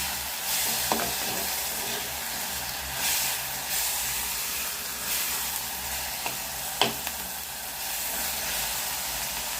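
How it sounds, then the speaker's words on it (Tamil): Tomatoes with salt sautéing in a pan, a continuous close sizzle and hiss with occasional scrapes and clinks of a stirring spoon. "தக்காளியும் கொஞ்சம் உப்பு சேர்த்து நல்லா வதக்கி வச்சுக்கணும்"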